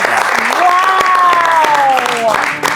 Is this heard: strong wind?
no